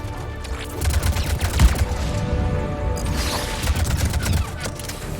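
Dense, continuous game gunfire from Mass Effect 3 during a firefight on Omega, rapid cracks and thumps overlapping at steady loudness throughout, with battle noise filling the mix.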